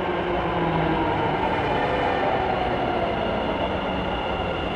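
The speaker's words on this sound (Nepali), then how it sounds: "ल गाइस मेट्रो आयो मेट्रो" A metro train pulls into a station in Bangalore, its steady, loud rolling rumble and rail roar filling the platform continuously without pause.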